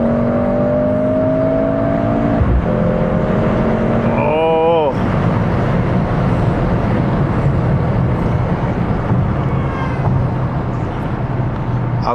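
A four-cylinder car engine revs in city traffic, with rising and falling harmonic sweeps around the fifth second over a steady loud drone of road and cabin noise.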